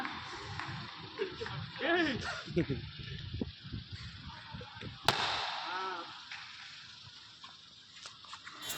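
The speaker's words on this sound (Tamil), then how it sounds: "பசங்க வெடியெல்லாம் வெடித்து ரொம்ப சந்தோஷமாக இருந்தாங்க" Firecrackers set off by children at a family celebration of a new car purchase: one sharp, loud bang rings out midway through steady chatter and background voices.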